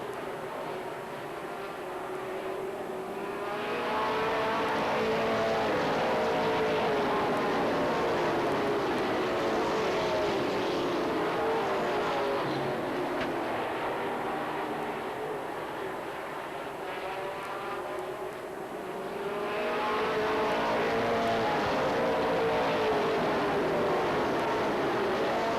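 Stock race cars at Beech Ridge Motor Speedway roar past in a continuous loud drone, engines swelling and fading as the pack circles the track.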